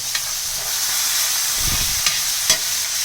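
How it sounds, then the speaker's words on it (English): Butter sizzles steadily and loudly in a hot pan while being spooned over a Cajun steak, a constant bright hiss broken by a few soft scraping clicks of the spoon. "start taking that butter and just scooping it on your steak just like that"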